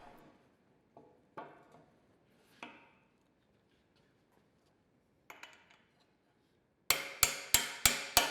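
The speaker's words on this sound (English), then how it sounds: "Then I can knock that through with a hammer and a socket in exactly the same way as if I were taking it apart." Hammer driving a socket against a universal joint cup, five sharp, evenly spaced metallic blows close up, after scattered lighter taps and clinks of tools.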